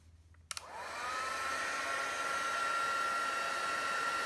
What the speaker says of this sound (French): Nous prenons donc ensuite notre heat gun et nous allons chauffer.